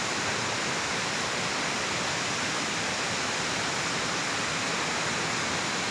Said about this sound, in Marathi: हो काय धबधबा चालू झालेलो वाटतं